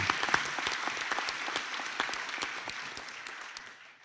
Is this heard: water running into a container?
no